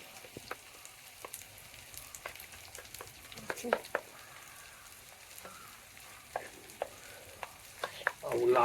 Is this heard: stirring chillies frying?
yes